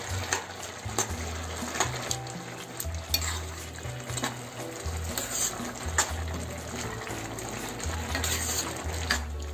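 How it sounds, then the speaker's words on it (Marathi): Masala paste being stirred into bitter val bean usal in a pan, with a loud continuous frying sizzle and repeated scraping and knocking of the spoon against the pot, no talk. "आता हे चांगलं ढवळून घ्यायचं."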